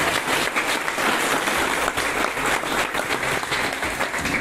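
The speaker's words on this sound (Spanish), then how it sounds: "démosle un fuerte aplauso a todo el personal docente de este instituto." Sustained audience applause at a school graduation ceremony, a dense, even roar of many people clapping together throughout.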